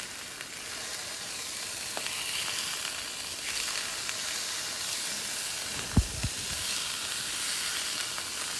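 Cheeseburger nacho ingredients sizzle in a pan just after being flipped, a steady bright hiss of frying with a single sharp clunk from the pan or utensil partway through.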